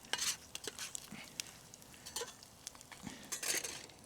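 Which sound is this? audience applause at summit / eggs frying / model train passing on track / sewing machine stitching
eggs frying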